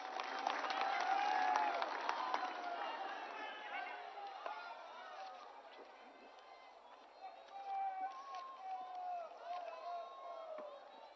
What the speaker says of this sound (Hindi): तालियों के साथ हम स्वागत करेंगे माननीय मुख्यमंत्री उत्तराखंड।